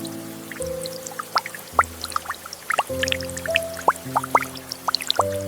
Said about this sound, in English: fresh bananas enter our state-of-the-art washing system. Crystal clear purified water cascades over the fruit